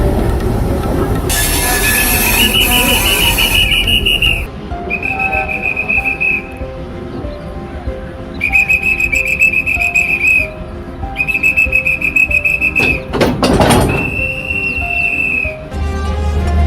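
A sharp railway whistle blows several times in bursts over the heavy rumble and squeal of a train starting to move, with a loud blast near the end.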